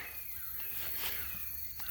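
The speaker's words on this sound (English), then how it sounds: "There is some serious pissed off birds over there." Agitated crows in the woods caw harshly at a distance, with a few rough calls sounding over faint outdoor rustle and no speech.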